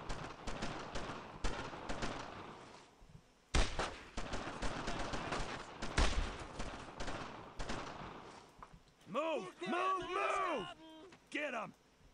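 Bursts of rifle and machine-gun fire in the WWII shooter Brothers in Arms, sustained and loud across most of the stretch, mixed with shouted in-game voices and battlefield noise.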